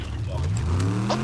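A Fortnite car's engine humming and revving up close, its low drone steady and rising slightly, with players talking over it.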